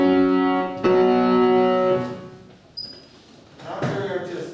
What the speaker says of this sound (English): if I just isolate and play the bass and the tenor, it sounds like this